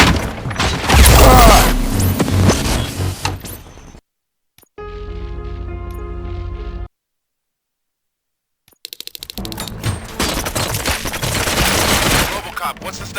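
Loud bursts of gunfire and booming blasts in Robocop: Rogue City, then a sudden quiet gap with a softer tonal passage, before the heavy shooting resumes.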